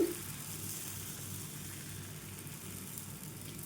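Thin pesarattu batter made from green gram sizzles on a hot pan as it is spread out, a continuous close hiss with no talk.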